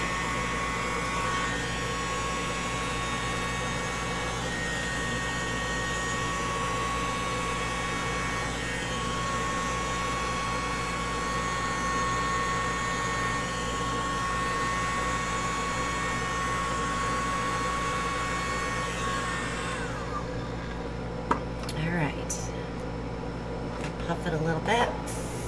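An air blower drives fluid art paint with a steady, loud whooshing hiss that runs nearly the whole time. It cuts off near the end, leaving a few soft handling sounds.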